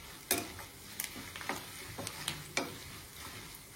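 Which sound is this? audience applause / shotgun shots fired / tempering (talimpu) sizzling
tempering (talimpu) sizzling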